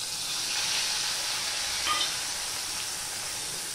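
Ginger hits hot oil already seasoned with garam masala, salt and turmeric, giving a steady, loud, close sizzle with bright crackling spatter and no talk.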